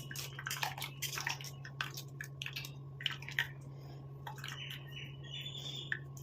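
Ground leaf hair dye mixture being strained, with scattered soft drips and wet squishing splashes, close and fairly quiet over a low steady hum.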